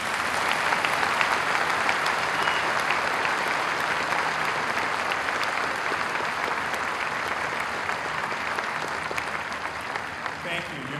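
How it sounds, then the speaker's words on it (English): A high school commencement crowd applauding honor students, a broad, steady wash of clapping from many hands that carries evenly through the whole stretch, loud and close. "I would ask you to join me in recognizing and honoring these students with a round of applause"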